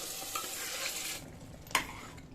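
Mashed vegetables for pav bhaji hiss and sizzle as they go into hot tempering and are stirred, a broad frying noise that drops off midway, with a sharp utensil knock near the end.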